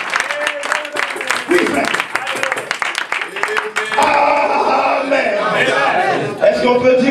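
A church congregation applauding and cheering in praise, bursts of clapping under a loud voice at first, then a sustained roar of cheering and shouts from the crowd.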